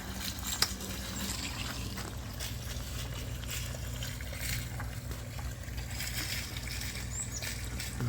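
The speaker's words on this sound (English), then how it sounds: "Pump on." A pump starts circulating water through a homemade four-pass counter-flow wort chiller, with a steady low hum and faint trickling and gurgling from air in the line.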